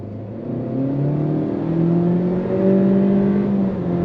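A 2023 Honda Civic Hatchback with a CVT pulls away hard from a dead stop, its engine note rising in steady stepped sweeps that mimic gear changes, loud and close throughout with no talking.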